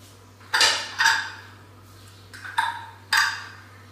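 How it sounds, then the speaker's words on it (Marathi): Five sharp metallic clanks of a pressure cooker lid being fitted and shut, close by, in two uneven bursts over a low steady hum. "कुकरचं झाकण लावलं की दोन्ही पदार्थ हे एकातच होतात"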